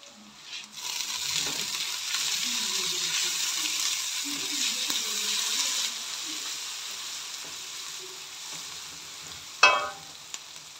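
Sausage frying in a pan for a spaghetti dish, a steady soft sizzle and hiss that runs for most of the stretch and then fades, with a sharp clink of utensil on pan near the end.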